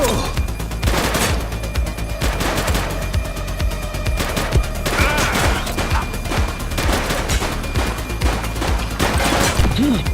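Gunfire in a police officer video game shootout: dense, rapid overlapping shots and bursts fill the whole stretch, with booming low thumps and an occasional voice underneath.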